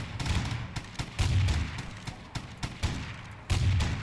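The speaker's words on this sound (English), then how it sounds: "So the turrets are actually pretty loud." Turrets in the Garry's Mod game firing loud, rapid bursts of gunfire, near and continuous with heavier booming volleys recurring throughout.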